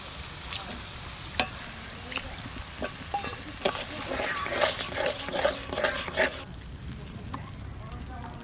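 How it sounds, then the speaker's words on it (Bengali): Cashew paste goes into a cauliflower korma curry in a pan, with soft sizzling and an uneven scrape of stirring that grows busier midway, all fairly quiet and close. "এবারে দিচ্ছি কাজু বাদাম বাটাটা।"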